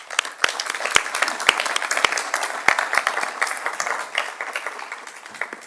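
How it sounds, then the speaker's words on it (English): Room full of people at a city council meeting applauding Nadine: a crowd of clapping hands with a few sharp, close individual claps standing out, strong at first and gradually tapering off. "let's give Nadine a big round of applause"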